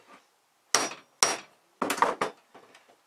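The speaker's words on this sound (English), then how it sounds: "a bloody big hammer." Four loud, sharp metallic strikes of a big hammer on steel, two spaced apart then two in quicker succession, each ringing briefly, with a faint fifth tap trailing off.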